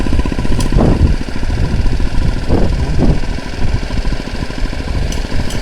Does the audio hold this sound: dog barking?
no